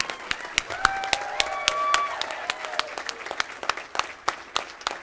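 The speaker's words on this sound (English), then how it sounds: "Let's give a big blue and gold cheer for Mr. Jimerson." An audience at an FFA foundation donor recognition and awards presentation claps for an honoree, with sharp distinct claps, some scattered, plus brief whistles or whoops early on, fairly close.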